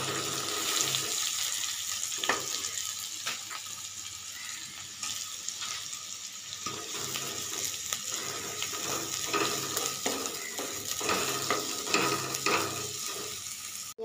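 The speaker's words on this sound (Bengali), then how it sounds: "এখন পেঁয়াজ দিয়ে দিব।" Onions drop into hot oil for khichuri and fry with a steady sizzle, broken by scraping stirs and clatter throughout, with a brief gap around the middle.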